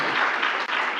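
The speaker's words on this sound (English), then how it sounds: "Please give another big hand clap as she sits." Brief burst of steady audience applause at a festival panel as a panelist takes her seat, dense and even throughout.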